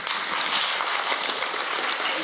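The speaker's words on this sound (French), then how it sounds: "vous applaudir également." Steady audience applause filling the room at a sports and fitness careers event, dense clapping heard alone at moderate level.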